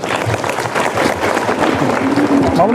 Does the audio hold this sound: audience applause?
yes